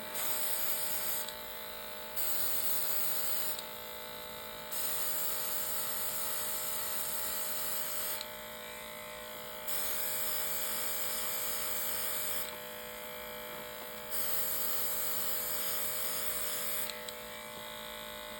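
Cordless airbrush kit spraying gel polish onto nails, a steady high motorized whir with hum that starts and stops in repeated bursts of a few seconds each, close and alone without talk.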